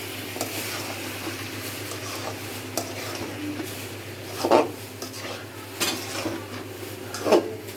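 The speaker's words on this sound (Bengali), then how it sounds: "নাড়া দিয়ে দিচ্ছি।" Small fish cooking in a pan are stirred with a utensil, giving scraping and clinking strokes over a low steady sizzle, with a few louder knocks against the pan.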